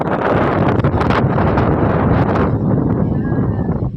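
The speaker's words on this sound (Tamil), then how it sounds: "மலை மேலே சும்மா காற்றுலாம் அப்படியே அடிக்குது" Strong wind blowing across a hilltop near the Pushpagiri Malaiyandavar hill temple at CN Palayam, a loud, continuous rushing roar buffeting the microphone throughout and easing slightly near the end.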